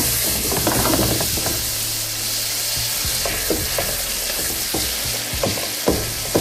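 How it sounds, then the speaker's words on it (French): Peanut paste stirred with a wooden spatula in hot oil, a constant loud sizzle with repeated scraping and knocking strokes of the spatula against the pot, no one talking. "La pâte d'arachide fond bien dans l'huile chaude."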